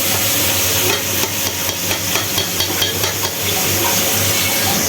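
Lentils with ginger-garlic paste stirred in a hot pan, a loud, continuous sizzle with a run of rhythmic scraping taps from the spoon against the pan.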